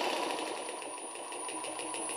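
Small DC motor turning slowly under pulse-width control, a steady whirring hum with a faint regular pulsing, close and moderately quiet with no talk.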